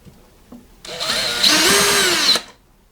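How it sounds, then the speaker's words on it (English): A power drill spins nuts loose on a Mackie mixer under repair, one steady high whirring burst lasting about a second and a half, close and loud. "the quickest and easiest way is to get me drill on them"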